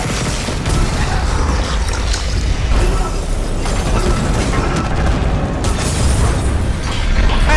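A large explosion in the Dead Space Remake game roars as a dense, sustained blast with heavy low rumble and crackling debris, loud and continuous throughout without speech.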